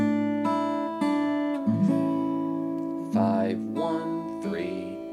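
Acoustic guitar plays the intro chord to a song in the Naudo arrangement, a held chord followed by single picked notes on separate strings, soft and close, with no talk.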